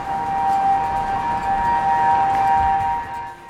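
A tornado warning siren wails with a steady, sustained tone, continuous, fairly loud and unbroken, with a faint background hum.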